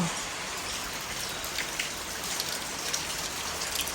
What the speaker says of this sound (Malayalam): മഴ വീണ്ടും പെയ്തുകൊണ്ടിരിക്കുകയാണ്